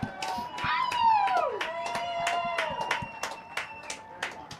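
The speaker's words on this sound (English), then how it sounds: "Let's give them a loud round of applause." A riverside crowd at the Head of the Charles Regatta applauds a passing octogenarian rowing eight from CRI, with scattered, fairly distant clapping and a sharp whistle rising and falling over it.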